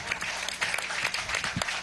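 A brief burst of audience applause for the percussionists at a Latin American music festival opening, steady clapping with a crowd murmur beneath it.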